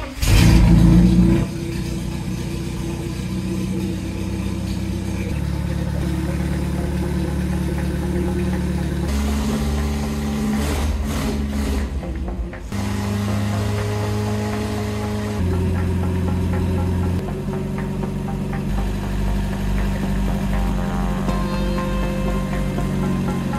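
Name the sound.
Renault R2087 4x4 tractor engine started, running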